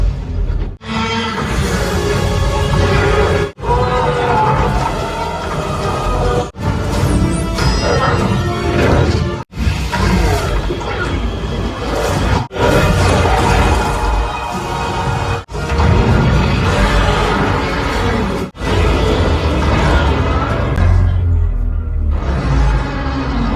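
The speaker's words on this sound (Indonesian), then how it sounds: "es yang menahan kedua piramid pun hancur yang mengakibatkan piramid pun bertabrakan" Loud, dense crashing and shattering from the Godzilla vs Kong film, where ice holding two pyramids breaks apart and the pyramids collide, repeated heavy impacts under a continuous orchestral roar with short cuts between them.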